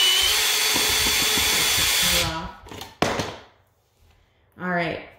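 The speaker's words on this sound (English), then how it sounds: "A drill is easier. You want to have it reverse." A power drill in reverse whirs steadily for a couple of seconds while unscrewing an electrical outlet face plate, then winds down; brief talking follows between short pauses.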